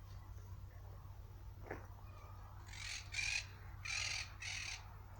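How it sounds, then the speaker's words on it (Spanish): Harsh, raspy parakeet squawks burst out in several short clusters from a moderate distance in a garden outdoors, over a low steady hum. "Estoy escuchando cotorras que hay en mi huerto, ahí fuera."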